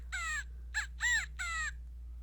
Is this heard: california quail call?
yes